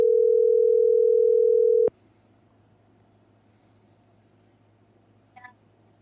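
A telephone line dialing out for a call-in plays a steady, loud dial tone for about two seconds that cuts off abruptly into quiet line hiss, followed by a brief faint beep.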